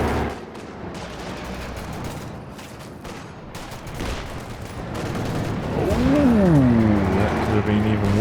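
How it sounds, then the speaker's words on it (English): In a Company of Heroes 2 match, a T-34 tank's cannon booms amid dense battlefield gunfire and rumbling vehicle noise, while a commentator talks over the action. "Bouncing their shots, all big hits by that T-34."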